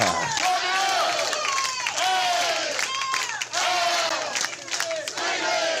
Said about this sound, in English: they're about to do a haka